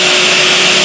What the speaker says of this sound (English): Let's get the grinder and see how well this is going to be